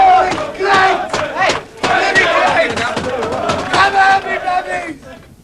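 A football crowd of nearly 18,500 at Molineux roars and chants in loud rhythmic surges, swelling and dipping in waves of massed voices close around the listener.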